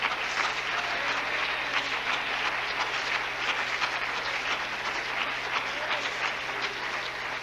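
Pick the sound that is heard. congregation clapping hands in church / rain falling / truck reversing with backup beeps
congregation clapping hands in church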